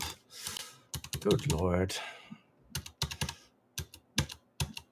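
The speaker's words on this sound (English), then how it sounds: "I can type." Typing on a computer keyboard during a live online session, heard as several short bursts of fast, close key clicks separated by pauses, with a voice speaking briefly near the start.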